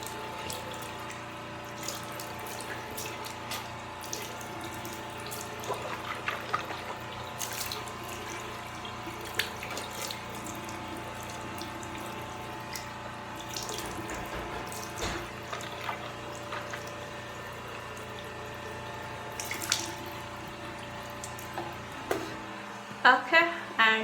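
Tap water runs steadily into a sink while someone rinses after brushing their teeth, a faint constant splash with occasional louder spatters and knocks, ending with a few brief clunks.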